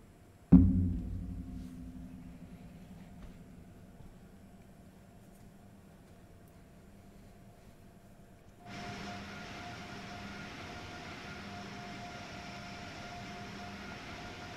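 Boston-Providence Northeast Corridor train in Train Sim World 3, a sharp clunk followed by a low steady hum that later swells into a broader, constant rolling rush.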